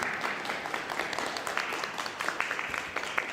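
Audience clapping at the close of a youth environmental education report meeting, a steady patter of many hands heard at moderate distance for a few seconds.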